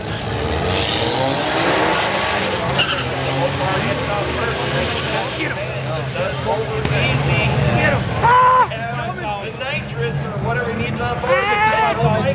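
A Chevrolet Cobalt SS and a Dodge Neon SRT4 run a drag strip race, their engines rising and falling in repeated revving sweeps under an announcer's excited commentary and crowd noise.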